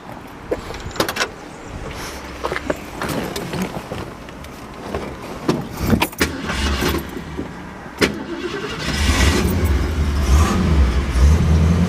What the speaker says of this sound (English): But we'll go ahead and fire this one up for you.